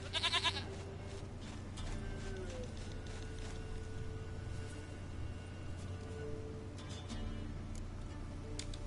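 A goat bleats close by in the Witcher 3 video game, its loud cry at the start followed by quieter bleats over a droning ambient game background, with faint voices at times.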